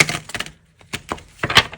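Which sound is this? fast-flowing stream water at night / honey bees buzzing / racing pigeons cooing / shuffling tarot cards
shuffling tarot cards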